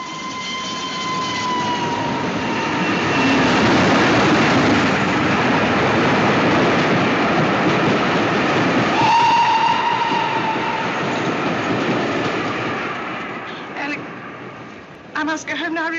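A train rumbles loudly and continuously, a long horn-like tone sounding partway through, with clattering near the end.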